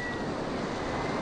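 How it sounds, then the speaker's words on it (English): Sea waves wash steadily onto a sandy beach, a continuous broad rush of surf mixed with wind and no distinct breaks. "You walk closer to the sea, stopping about 10 yards from the waves."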